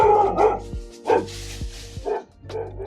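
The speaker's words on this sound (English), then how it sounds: "There goes the dog." A dog barking close by, three loud separate woofs spaced roughly a second apart, with some whining between them.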